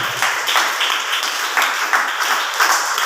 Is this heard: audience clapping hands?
yes